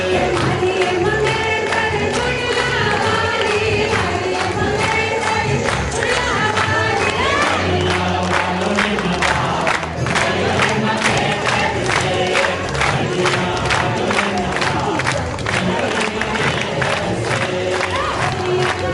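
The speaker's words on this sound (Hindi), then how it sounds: "तालियां जोरों से बजाइए उनके लिए आप।" A large audience roars with cheering and shouting for a dance performance by Sushma Tanwar and her friends at a women's club event, a dense, loud, continuous crowd din over music-like tones.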